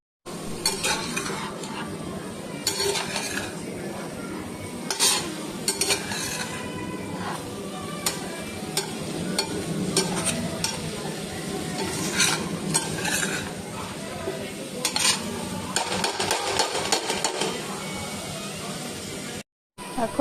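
Chicken cooks in a covered pan in a low-oil diet recipe, with a continuous sizzle and steaming hiss. Occasional sharp clinks and scrapes of utensils against cookware cut through, and a brief silent gap falls near the end.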